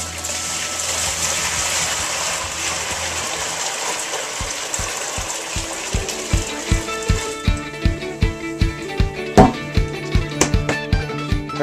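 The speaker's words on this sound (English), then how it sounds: "we're going to get this thing down to the basement and pour it in the mash tun" Hot brewing water is poured from a pot into a cooler mash tun for all-grain homebrewing, a steady rushing gush that gives way to rhythmic pulsing sloshes and splashes, close and fairly loud, with no talking.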